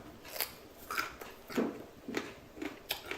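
Crisp crunching bites into a firm yellow Peter pepper, five or six distinct crunches spaced roughly evenly, close and clear with no talking.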